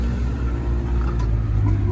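A Niva off-road car fitted with hard blocks and 32-inch Nortec tires rumbles with a steady, loud low engine drone throughout, close by and continuous, with no talk over it.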